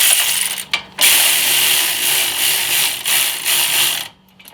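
A hand ratchet tightens hub bearing bolts on a 2008-2012 Chevy Malibu, its rapid pawl clicking loud and close in a long run after one brief stroke, then stopping.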